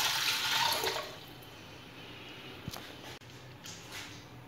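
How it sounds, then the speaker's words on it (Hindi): Water, about a litre, is poured into a pressure cooker holding beef for a pulao, a close splashing gush that lasts about a second before fading into quiet kitchen background. "मैं इसमें अब 1 लीटर पानी ऐड कर दूँगी।"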